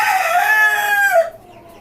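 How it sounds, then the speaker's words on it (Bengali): A red rooster on a farm raising native and tiger chickens gives one loud, close crow, its long held call lasting just over a second before it cuts off and leaves quiet. "লাল মোরগ"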